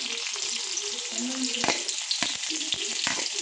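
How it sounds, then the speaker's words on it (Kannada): Onions sizzle steadily while frying until brown for a dhaba-style egg masala, a continuous close hiss broken by a few sharp stirring scrapes of the spatula and no voices. "ಉಳ್ಳಾಗಡ್ಡಿ ಬ್ರೌನ್ ಕಲರ್ ಆಗುವವರೆಗೆ ಫ್ರೈ ಮಾಡಿ."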